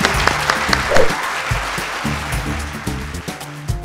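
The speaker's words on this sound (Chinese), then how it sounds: "让我们掌声欢迎谢松善阿善师。" A studio audience breaks into steady applause to welcome a forensic science expert guest on a Taiwanese talk show, the clapping continuous and fairly loud throughout.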